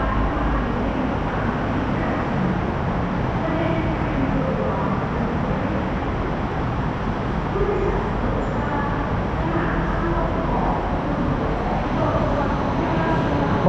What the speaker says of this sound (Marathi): असल्या प्रकारची ट्रेन आहे इथली.